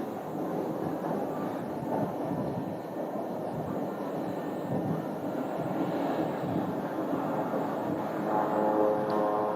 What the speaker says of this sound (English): Challenger 604, but that one's departing